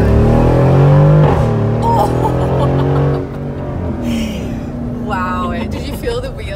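A Mercedes-Benz G63 AMG 6x6 with an Akrapovic exhaust rumbles deep and loud at close range, the low engine tone swelling then easing off, with excited talking over it.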